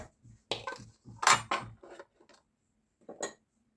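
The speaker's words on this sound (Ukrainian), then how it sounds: "В опару додаємо жовтки і гарно змішуємо." Egg yolks being mixed into a yeasted dough starter in a bowl for Easter paska, with intermittent scraping and clinking strokes of a utensil in short bursts separated by quiet gaps.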